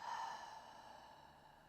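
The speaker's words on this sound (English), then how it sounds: "Clear your system with an exhale, empty your lungs." A single deep, breathy exhale during a yoga breathing exercise, close and soft, fading out gradually over about a second and a half.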